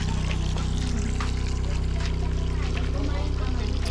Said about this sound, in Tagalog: Oh, malakas ang tubig oh.